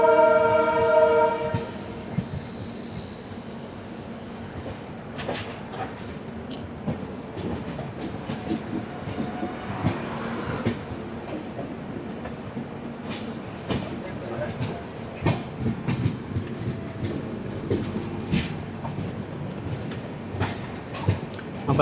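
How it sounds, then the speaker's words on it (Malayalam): The Gandhidham-Tirunelveli Humsafar Express train enters Shoranur Junction station, opening with a horn blast, then rolling with steady rumble and rhythmic wheel clicks over the points while someone speaks over it. "അപ്പോൾ നമ്മളങ്ങനെ ഷൊർണൂർ ജംഗ്ഷൻ സ്റ്റേഷനിലൂടെ പ്രവേശിക്കുകയാണ്"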